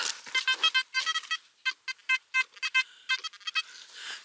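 Metal detector sweeping a spot during a relic hunt, giving a rapid run of short, bright electronic tones in uneven bursts, close and clear with no talk.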